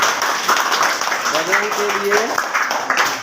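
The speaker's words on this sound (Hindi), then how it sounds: "ठीक है, ताली बजाओ" Schoolchildren clap together for a classmate in a classroom, a dense, steady patter of applause throughout while a voice speaks over it.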